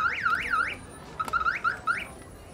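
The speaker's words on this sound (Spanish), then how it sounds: "apago la alarma a mi nave" A car alarm sounds nearby with loud, rising-and-falling electronic whoops that cut off, then restart in a short choppy burst.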